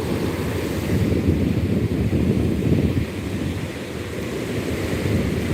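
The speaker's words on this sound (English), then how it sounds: "Enjoy these beautiful waves." Ocean waves break and wash in a steady roaring surf at sunset, heavy wind buffeting the microphone throughout with no talk.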